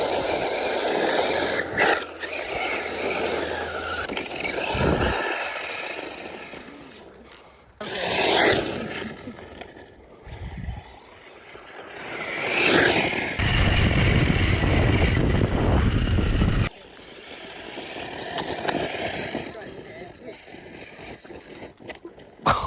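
An Arrma Senton 6S RC truck driving outdoors, harsh rasping and grinding bursts from the drivetrain and tires that swell and fade over about twenty seconds, loud and close.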